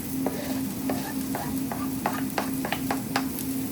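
Salt and pepper chips with spring onion being stirred and fried in a pan: a steady sizzle with repeated sharp scraping stirs at an irregular rhythm, close and moderately loud, no talking.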